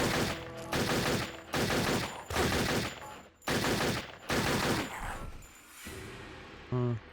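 Video game gunfire from Turok 3: Shadow of Oblivion, with several loud sustained bursts of automatic fire separated by short pauses, then a quieter stretch and one final brief burst, without any talk.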